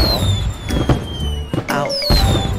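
Fireworks bursting in a video game, a rapid run of loud crackling pops and booms over about two and a half seconds, with game music tones and a voice briefly exclaiming.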